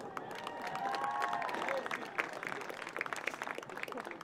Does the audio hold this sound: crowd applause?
yes